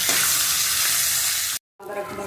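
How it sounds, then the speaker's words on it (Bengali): Pomfret fish head seasoned with salt and turmeric sizzles loudly in hot oil, a dense steady frying hiss that cuts out abruptly before a quieter sizzle returns. "মাথাটা একটু ভালো করে ভেজে নিয়েছি"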